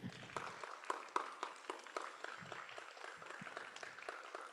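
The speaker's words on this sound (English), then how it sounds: "Give a round of applause to Mr. AJ." Faint applause from a university roadshow audience, scattered clapping at a distance, low in level, with sharp individual claps standing out over a soft background.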